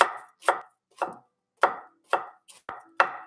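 Knife chopping vegetables on a cutting board while making spring rolls from scratch, eight sharp, separate thuds at a slow, uneven pace, close and loud with nothing else heard.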